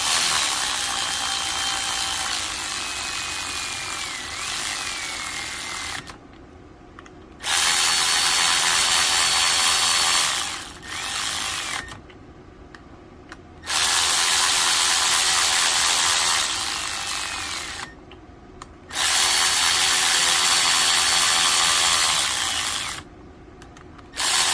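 A ratchet runs down the clutch cover bolts on a Yamaha Raptor 660 until snug, giving long stretches of rapid, loud, close clicking broken by short pauses between bolts, with no voices.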